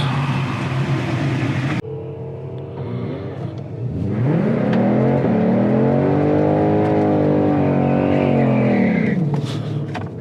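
A 2021 Ford Mustang GT500 idles loudly, then launches at a drag strip, its supercharged V8 roaring and climbing through several gear changes with rising and falling pitch, close and dominant.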